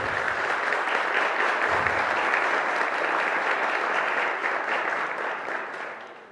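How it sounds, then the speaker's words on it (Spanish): A room full of people at a workshop claps steadily and loudly for a few seconds, a dense even patter that tapers off at the end. "Déganos un aplauso"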